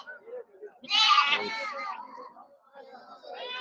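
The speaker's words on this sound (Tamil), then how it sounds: "ஒரு குட்டியை விட்டுட்டு போயிட்டாங்க அது தாயை தேடி அலைஞ்சிக்கிட்டு இருக்கு" A young goat kid bleats loudly and repeatedly at a busy Saturday livestock market in Ettayapuram, calling for its mother, with people talking nearby.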